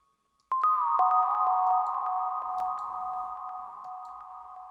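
Synth slide notes glide between pitches: a sustained electronic tone jumps and slides to a lower note, then holds steadily for several seconds, fairly loud and alone.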